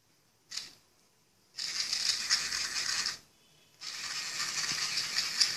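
Motorized smart wheelchair mechanism turning left gives a short click, then two sustained, close whirring and rattling bursts separated by a brief pause.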